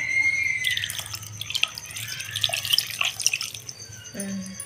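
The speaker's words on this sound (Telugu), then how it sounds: "వాటర్ కూడా పోయేసుకుందాం" Water runs and splashes steadily into a cooking pot of okra stew, poured from a small metal pot, a continuous pouring and dripping sound close by, with no one speaking.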